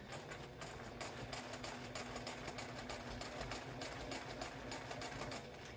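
Sewing machine stitching steadily along a seam line on a small fabric tea wallet, a close, even motor whir with rapid needle clatter running continuously, no talking.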